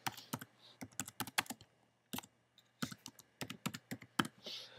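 Typing a title on a computer keyboard, bursts of crisp close key clicks in irregular clusters with short pauses between words, quiet and alone over a faint hum.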